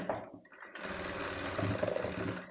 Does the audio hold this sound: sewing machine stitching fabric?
yes